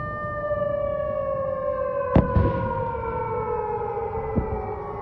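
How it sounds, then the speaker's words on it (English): Air defense sirens wail in long, slowly falling tones over a city during wartime strikes, with a couple of sharp distant booms cutting through partway. Heard from afar under a low background hiss. "obviously it's kind of creepy with the air defense sirens going off and everything like that, and the explosions"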